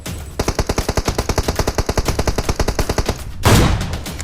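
Rapid automatic gunfire in PUBG Mobile rattles off in one long, evenly spaced burst of close, loud shots, ending in a louder blast of noise.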